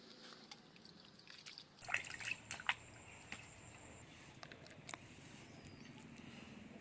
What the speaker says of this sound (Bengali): এখন আমি মাছটা ধুয়ে নিচ্ছি ভালো করে।